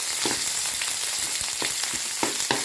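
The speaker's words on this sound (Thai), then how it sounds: "แกงกะทิแกงผัดพริกก่อน พริกให้ให้หอมก่อน" Chili curry paste fries in oil as the base for a pork and sweet potato coconut curry, with a constant sizzle and a steady rhythm of stirring scrapes from a spatula against the pan.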